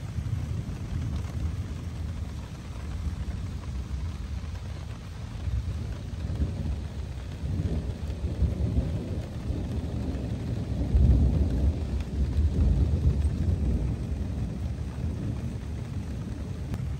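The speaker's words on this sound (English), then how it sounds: "Just a little afternoon thunderstorm in northern Minnesota." A northern Minnesota afternoon thunderstorm brings steady heavy rain and low rumbling thunder that swells and rolls on, loud and continuous, with no voices.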